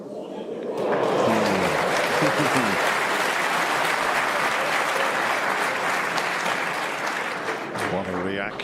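A snooker crowd at the 2024 World Championship semi-final bursts into loud, sustained applause after a pot, the clapping filling the hall steadily for several seconds, with a commentator speaking faintly at the start and end.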